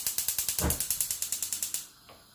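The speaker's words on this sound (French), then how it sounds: "Je vais allumer le feu" A gas stove's piezo igniter clicks rapidly in an even series of about fifteen sharp ticks while the burner catches with a soft whoosh, then the clicking stops and a quiet flame hiss remains.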